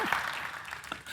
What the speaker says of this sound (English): Was not expecting applause there.